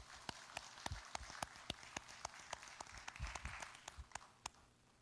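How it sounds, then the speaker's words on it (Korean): A church congregation claps during a service, with a dense wash of applause over which some louder, regular claps stand out, heard at moderate volume with a roomy background. "영광의 박수 한번 돌려드리겠습니다"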